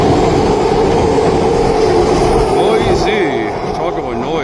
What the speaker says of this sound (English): I think SkyTrain is just as heckin' noisy